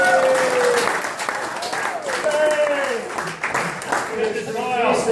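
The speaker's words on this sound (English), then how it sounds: "Round of applause." An audience claps at a Rotary Club changeover dinner, sustained applause with voices and a few cheers mixed in throughout.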